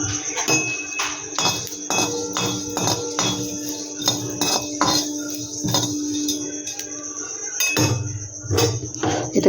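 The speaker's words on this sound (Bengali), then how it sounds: "এটাকে আমি একটু ভেজে নেব হালকা করে" Whole coriander, black peppercorns, black cumin and cumin seeds dry-roast lightly in a pan, with repeated sharp metallic clinks and scrapes from stirring at an irregular rhythm, close and fairly loud.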